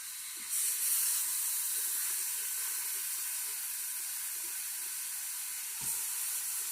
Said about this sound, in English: it's sizzling already, okay?